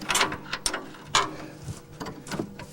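A bolt is worked out of the brake on-stop lever of a Rolls-Royce, giving a few close metallic ratcheting clicks and clanks in short irregular bursts, with no talking.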